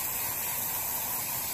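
Brake cleaner spraying from an aerosol can onto M939 truck rear brakes in one continuous, even hiss, fairly close and uninterrupted, with no voices.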